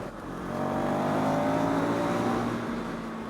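A KTM 390 SMC R single-cylinder motorcycle pulls in sixth gear, its engine drone rising steadily in pitch as it accelerates, heard close and continuous with wind noise.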